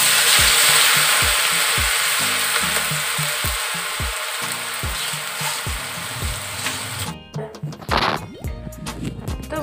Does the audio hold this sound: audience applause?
no